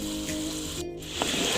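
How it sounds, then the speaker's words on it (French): Coconut-milk dough pieces frying in hot vegetable oil give a steady, dense sizzle throughout, with a brief gap and a small pop near the end, no voices. "On va commencer à mettre les coco cheddar dans l'huile chaude"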